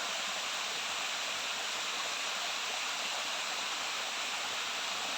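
Steady, dense rush of water pouring down at the Tak Abek waterfall, a broad continuous roar heard close and loud, unbroken throughout with no voices.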